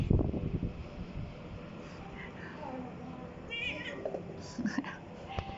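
A cat gives a few faint, short meows beside a quiet storytelling scene with soft whispered talk and light wind noise on the microphone.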